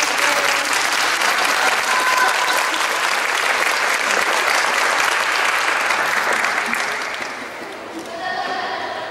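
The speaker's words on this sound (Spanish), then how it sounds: "el aplauso ahora va más para ustedes" Sustained applause from an audience at an inventors' event, steady and full for most of the clip before dipping near the end, with faint background sounds under it.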